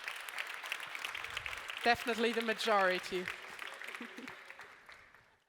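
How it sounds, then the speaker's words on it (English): Applause from the audience at a youth conference rises as a steady clapping wash while a person speaks over it briefly, then the clapping fades out toward the end. "Yay, applause."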